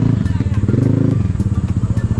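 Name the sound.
Vespa GTS 300 Super Sport scooter riding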